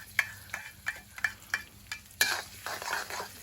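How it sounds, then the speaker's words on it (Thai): Garlic stir-fried in oil in a wok, a close sizzle punctuated by a regular series of sharp scraping taps from a spatula, ending in a louder, busier surge of frying. "แล้วจากจากนั้นเอากระเทียมลงผัดเนาะ"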